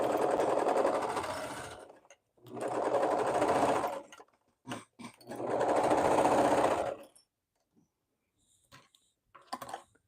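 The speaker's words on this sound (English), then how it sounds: "so now we're going to sew those together" A sewing machine stitching swimsuit fabric runs in three separate bursts of fast, steady whirring, each lasting about one to two seconds. Quiet gaps fall between them, with only faint clicks and handling noises.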